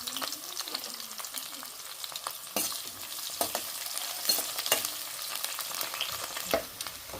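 Onions, curry leaves and green chillies frying for a fish curry, a continuous crackling sizzle punctuated by repeated spoon scrapes and clinks as they are stirred.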